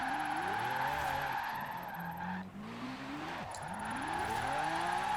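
A Lamborghini in Forza Horizon 4 drifts with its tires skidding and squealing, the engine note rising and falling in sweeping pitch bends across several slides, loud and close, with no voices.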